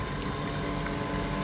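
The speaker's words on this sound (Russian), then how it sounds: "при помощи этого аппарата, который гоняет воду по системе в реверсном режиме" A flushing machine pumps water mixed with chemical cleaner in reverse through a car's heater radiator, on a Hyundai, producing a steady close, loud liquid churning and pump hum that runs unbroken with no talk.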